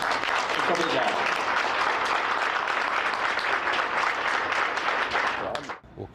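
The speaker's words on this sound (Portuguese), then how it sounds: "Tem mais é que aplaudir, né, Beto?" A large audience applauds steadily and loudly for several seconds at a Brazilian event honouring Herbert de Souza. The dense clapping cuts off abruptly near the end.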